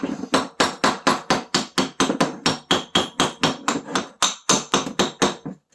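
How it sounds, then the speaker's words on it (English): A hammer taps a seized metal brake caliper again and again in a steady, fast rhythm, each strike sharp and close, with no talking. "You can also take a hammer and gently tap."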